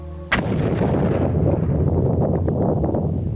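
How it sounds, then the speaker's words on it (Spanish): Explosion recreating the Tunguska event over remote Siberia: a sudden sharp blast after a brief low tone, followed by a loud, rolling, sustained rumble with wind-like roar that continues for several seconds. "una explosión que se oyó a miles de kilómetros de distancia"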